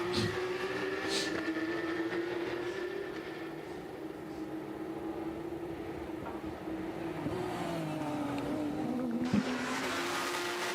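Porsche Carrera Cup race cars on the Le Mans circuit roar past at a distance, a continuous engine drone whose pitch rises and falls as they accelerate and shift.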